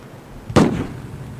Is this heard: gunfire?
yes